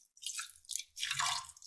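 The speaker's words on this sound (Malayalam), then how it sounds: "ഇനി കുരുമുളകും മഞ്ഞളും ഇട്ട ചിക്കനിലേക്ക് നമുക്ക് കുറച്ച് വെള്ളം ഒഴിച്ച്" Water is poured into a pot of chicken seasoned with salt, pepper and turmeric, a short, close, splashing trickle in two or three bursts.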